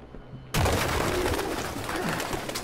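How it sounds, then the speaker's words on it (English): Pigeons cooing in the video game Detroit: Become Human, a dense flock heard after a sudden loud onset, with steady overlapping coos and wing rustle filling the space at close range. "Pigeons? What the fuck is this?"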